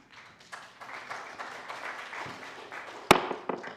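An audience claps at a county zoning hearing in a room. The applause is scattered and moderate and builds for a few seconds, with one sharp knock near the end.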